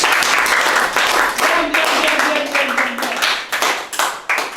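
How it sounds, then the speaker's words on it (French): Applause for a young speaker at a peer-educator training session on drug prevention: a room of people clapping steadily and fairly close for several seconds, with a voice talking over the clapping. "Acclamez pour lui"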